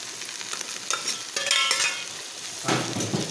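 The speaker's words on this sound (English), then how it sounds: "Now just saute for 2 to 3 minutes." Potatoes and carrots for vegetable biryani sautéing in a pan, a moderate continuous sizzle with a few stirring scrapes near the middle and a louder rush toward the end, with no voices.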